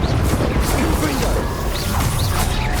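A fire spell blast is cast in the video game Hogwarts Legacy amid rapid dueling, with sharp impact bursts and crackling whooshes. The effects repeat several times in a dense, loud mix of combat sound effects.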